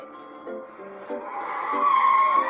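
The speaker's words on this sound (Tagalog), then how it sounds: "Tignan nyo, mayroong kotse." A car skids with a brief tire squeal that rises and grows louder over a couple of seconds, with a faint, pulsing engine note beneath.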